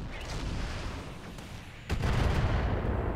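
A weapon fires in the tactical video game Roguepoint, a sudden heavy boom that rises out of a rumbling background and leaves a dense, sustained roar afterward.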